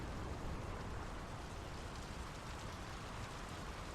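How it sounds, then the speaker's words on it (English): Steady rainfall in the video game Draugen hisses as a faint, even broadband wash, continuous and without voices. "The rain's picking up."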